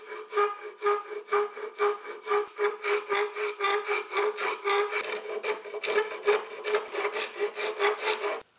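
Hand sawing through a wooden slat for a Stickley-style bookshelf, with the workpiece clamped flat in a vise; steady, rhythmic back-and-forth rasping strokes, close and loud, with no talking.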